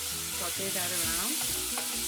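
Garlic and ginger paste sautéing in hot oil for a curry, a steady close sizzle with scraping stir sounds through the whole short stretch, no voices.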